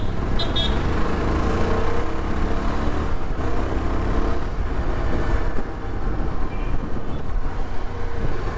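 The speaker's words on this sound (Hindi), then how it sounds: "थोड़ा बहुत छोटा मोटा ट्रैफिक" Light street traffic in Siddhbari on a mountain road ride near a cantonment area: a continuous roar of passing vehicles and engine rumble, with short car horn toots near the start and occasional beeps later, no talking.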